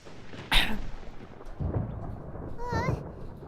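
Thunderstorm in a video game, with a sharp close thunder crack followed by rumbling and rain, plus brief game sound effects near the end.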